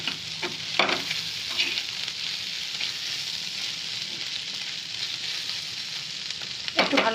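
Bitter gourd and potato pieces sizzle steadily in a pan on a raised gas flame, with a spatula scraping and stirring through them now and then, close and continuous, with no talking.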